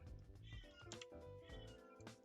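A house cat meows several times in quick succession, close and fairly loud, with short plaintive calls spread across a couple of seconds.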